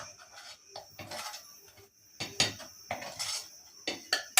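A metal utensil scrapes and knocks around the inside of a ragi mudde cooking pot in a series of rough, uneven strokes with bright clanks, close and loud, with no voices.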